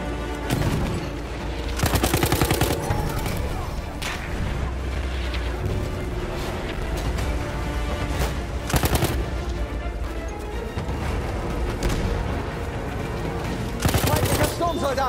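Machine gun bursts ring out in a Battlefield 1 battle, loud rapid volleys recurring several times over a dense din of battlefield noise, with voices calling out amid the firing.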